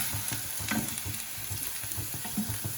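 Paneer cubes frying lightly in a pan for paneer manchurian, a soft steady sizzle with gentle rhythmic stirring taps, close and quiet.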